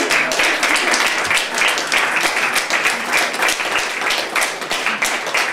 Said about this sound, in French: Allez, on applaudit Ginevra.